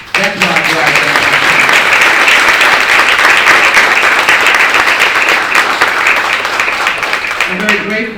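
A crowd at a congressional event claps in a dense, loud burst lasting several seconds, tapering slightly at the end as a voice returns.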